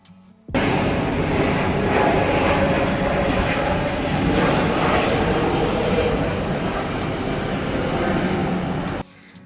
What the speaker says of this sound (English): We're going to get started here with this Delta Boeing 737-900 who came in from Salt Lake City